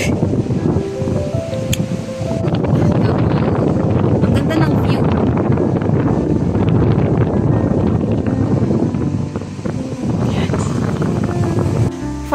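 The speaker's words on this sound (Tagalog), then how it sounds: "There's a strong winds here." Strong wind in Northern Savo, Finland buffets the microphone in a constant roaring rumble, while a person speaks briefly over the gusts.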